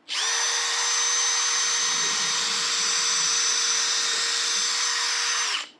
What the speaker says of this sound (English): drill a hole in this